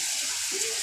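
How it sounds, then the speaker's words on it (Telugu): Water is poured into a pan of frying vegetables for sambar, making a brief, close rushing gush over a faint sizzle. "ఇప్పుడు నీళ్ళు వేద్దాం."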